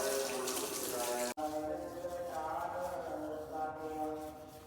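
Tap water running steadily at a kitchen sink while dishes are washed, a continuous near splashing hiss with a brief break early on, no talking.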